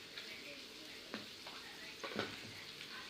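Green chillies and masala sauté in a pan for chicken biryani, giving a soft, constant sizzle with a few scraping stirs of the spoon.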